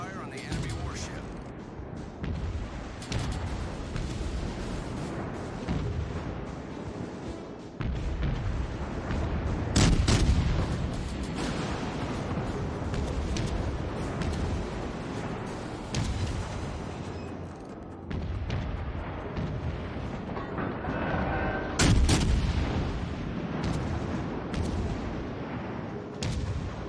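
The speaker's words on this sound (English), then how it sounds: "Concentrate fire on the enemy warship." Warship naval guns firing in the World of Warships Legends video game, with repeated heavy booming salvos and rumbling cannon fire throughout and a voice talking over the battle.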